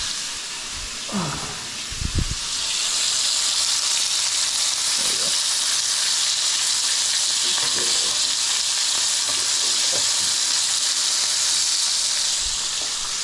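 A steak sizzles loudly in a new pan while being basted with butter, a continuous hissing fry with a few soft knocks near the start.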